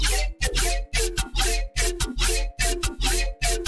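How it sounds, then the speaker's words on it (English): Synth bass plays a choppy rhythmic pattern of short, punchy notes with filtered, shifting harmonics, separated by brief gaps of silence. "So you can hear all of these like filtered harmonics in this bass."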